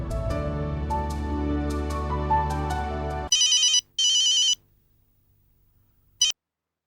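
A phone rings with short electronic bursts, two quick rings then a brief chirp, after a musical passage cuts off abruptly.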